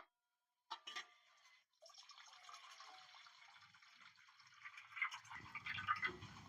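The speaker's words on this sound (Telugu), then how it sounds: "ఇగో వేరే గిన్నెలకు ఈ నీళ్ళన్నీ వంపుకుందాం." Cooking water from boiled raw mango is poured from a pot into another bowl, a soft, steady trickle and splash that starts after a brief knock and builds slightly toward the end in a quiet kitchen.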